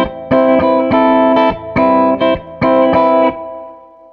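Electric guitar plays a short phrase of sustained chords without a drop-tune pitch-shifting effect, three loud strummed groups with brief gaps between them, ringing out clearly and alone.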